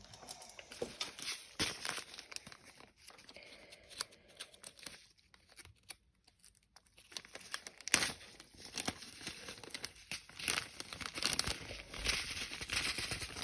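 Close crinkling and rustling of a small plastic microgreens seed packet, irregular bursts of crackle with a brief quiet stretch in the middle.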